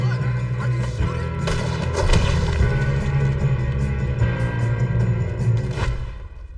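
Gunfire in Red Dead Redemption 2, a dense rumbling barrage of shots and booms, loud and continuous across the whole stretch without talk.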